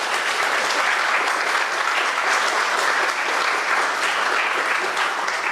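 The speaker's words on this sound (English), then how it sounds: "how about a round of applause?" An audience breaks into warm, continuous applause, many hands clapping at an even, full level throughout with no voices rising above it.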